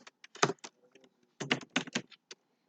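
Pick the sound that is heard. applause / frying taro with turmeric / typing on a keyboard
typing on a keyboard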